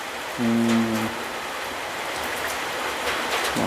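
Steady rain falls with a dense, even hiss throughout, and a brief low hum rises over it near the start before fading back into the downpour.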